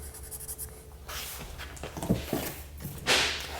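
A dry erase marker drawn across vinyl plank flooring during installation makes a few short, scratchy strokes, with a brighter squeak near the end, close up and fairly quiet against low room hum.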